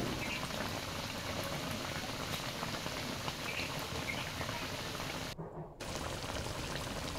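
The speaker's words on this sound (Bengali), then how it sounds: "আর কোনো জল অ্যাড করব না, এতেই সিদ্ধ হয়ে যাবে।" Raw mango pieces with salt and turmeric simmer in a pot, a steady close bubbling boil with a brief gap near the end.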